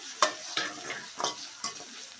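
Tomatoes frying with onions and curry leaves in oil for sambar, a close sizzle with several bursts of scraping as the pan is stirred.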